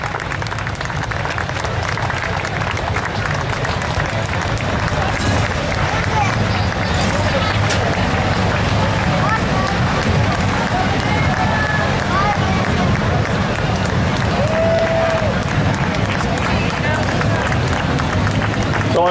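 A parade crowd in Fort Ligonier claps in steady, sustained applause, dense and continuous throughout, with crowd murmur and voices mixed in.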